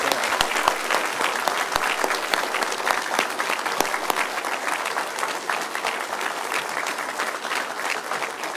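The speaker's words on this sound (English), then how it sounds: "Let's give them all an applause," Audience applause honoring U.S. Army and Air Force veterans fills the room, a dense, steady roar of many hands clapping at full strength for the whole stretch without a break.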